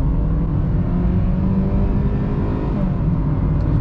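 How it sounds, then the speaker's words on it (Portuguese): A Hyundai HB20 R-Spec 1.6 automatic holds a loud, steady engine roar as it accelerates hard from a standstill, the revs sustained and close with no talking. "Vou encher aqui um pouco o motor, vou segurar o pé no freio com o pé esquerdo e acelerar com o pé direito"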